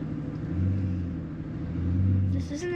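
Mercedes S65 AMG with a V12 engine accelerating during a first driving lesson, a low steady rumble swelling twice as the gas is pressed, heard from inside the cabin, with a voice cutting in near the end.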